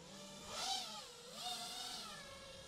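Racing drone taking off and flying past, with rising and falling whining motor pitch sweeping through two loud passes over a steady hum.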